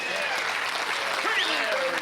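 Applause from the rail at a high-stakes poker tournament, the Five Diamond World Poker Classic, a brief burst of moderate clapping from a small crowd heard under faint voices.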